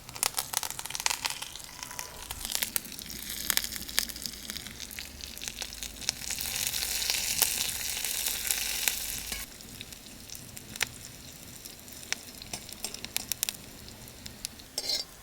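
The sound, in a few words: mustard seeds, onion, dried chilies, curry leaves frying for tempering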